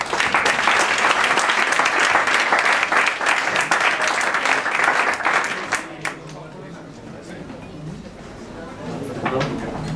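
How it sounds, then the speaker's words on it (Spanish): A strong burst of audience applause at a talk in Madrid's Irish Corner, loud dense clapping for about six seconds before thinning out, with a few scattered claps near the end. "un fuerte aplauso para Álvaro"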